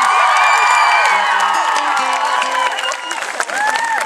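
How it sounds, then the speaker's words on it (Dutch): A live audience at a Thuis soap fan day claps and cheers loudly for the actors, a dense, steady wall of applause with whoops and shouts scattered through it, and a voice faintly audible underneath. "Dames en heren, geef ze een geweldig applaus."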